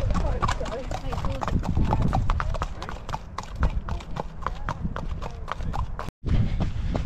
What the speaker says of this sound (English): the horses were doing a workout on the gallop